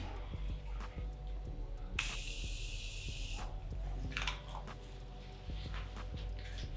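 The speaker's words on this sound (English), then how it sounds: "I'm gonna spray some." Makeup setting spray hisses steadily for about a second and a half in the middle, surrounded by light tapping and handling noises in a quiet room.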